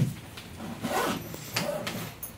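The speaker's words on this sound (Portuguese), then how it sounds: "como você colocar o cursor do zíper da sua mala" A suitcase zipper slider is worked by hand in several short rasping zips with faint rubbing between them, close and moderately loud, with no talking.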